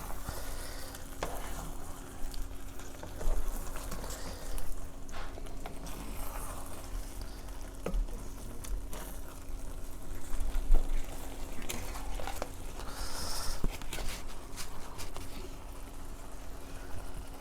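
Cornstarch sauce for paneer chilli bubbling and sizzling steadily in a pan, a soft continuous simmer with occasional faint stirring scrapes throughout.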